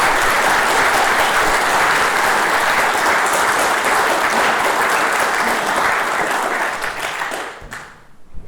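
A lecture audience welcomes Steve Belmain with loud, sustained applause from many hands, holding steady for several seconds before quickly fading away.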